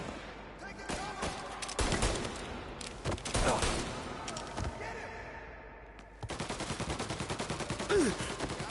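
Rapid gunfire during a shootout in the game Mafia Definitive Edition, with loud overlapping shots and bursts throughout and a steady machine-gun-like rattle near the end, mixed with game noise.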